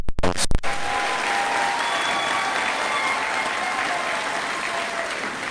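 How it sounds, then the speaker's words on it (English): An audience at a middle school graduation ceremony applauds the graduating class: a few loud claps up close open into sustained, dense clapping from a large crowd that continues steadily throughout. "Please give them another loud round of applause."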